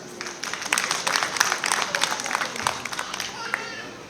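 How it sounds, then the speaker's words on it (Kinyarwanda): An audience claps at a school ceremony, a burst of scattered hand claps at moderate distance that rises and then thins out, with a voice speaking over it. "Turabaha amashyi rwose."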